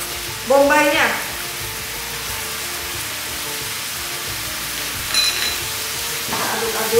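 Chopped onion going into a pan of stir-fried chicken and broccoli cooked in sesame oil, sending up a sudden loud hiss at the start that settles into a continuous sizzle, with a few brief clatters later on.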